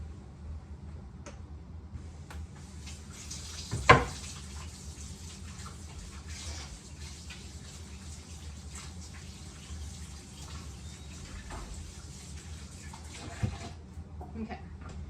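A kitchen tap runs in a steady, soft hiss of water while hands are washed, with a brief clunk near the start, and quiet speech faintly under it.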